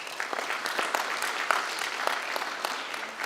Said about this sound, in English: We can clap loudly. It's fine.